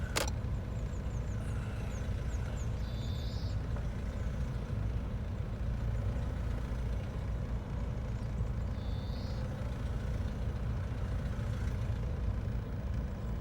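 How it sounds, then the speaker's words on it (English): A Peugeot Partner van engine ticks over in first gear during a slow test drive. The low rumble stays even and steady throughout from inside the cab, with no one speaking. "So just on tick over in first gear, so I can't go no faster."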